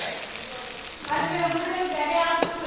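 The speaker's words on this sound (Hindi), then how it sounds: "चलो भाई प्याज डाल देते हैं अभी।" Onions are added to a hot pan in a home kitchen, and a soft steady sizzle of frying continues close by while a voice and brief tonal sounds sit over it.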